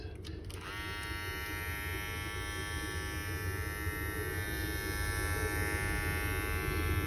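Babyliss Pro Rose Gold FX electric hair clipper buzzing steadily up close, a continuous motor hum with bright harmonics, switched on at the start and running unbroken throughout.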